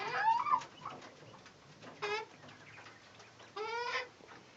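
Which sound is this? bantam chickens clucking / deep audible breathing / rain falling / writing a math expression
bantam chickens clucking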